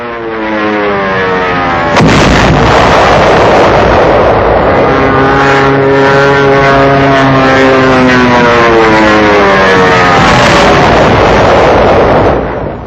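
A 2nd Armored Division tank fires in 1945 wartime combat: one loud, close blast that booms and rolls on in a long rumbling echo behind heavy, continuous film-soundtrack noise.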